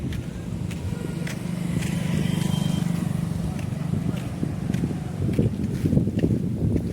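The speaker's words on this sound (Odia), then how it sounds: "ବହୁତ ଧୋକା ପବନ ହଉଛେ" Strong wind gusts through a Hyderabad neighbourhood during heavy rain, a steady low roar with rough microphone buffeting that swells and eases throughout.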